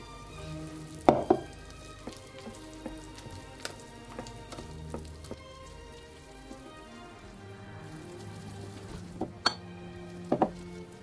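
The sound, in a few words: whisking flour into yogurt batter to remove lumps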